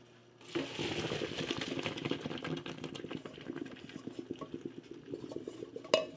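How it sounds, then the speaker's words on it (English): Cooked pasta being drained from a pot for vegetable lo mein: a steady clatter of metal pot and strainer with sloshing and splashing water, dense and busy throughout, with a sharper clank near the end. "you want to take your pasta and drain it"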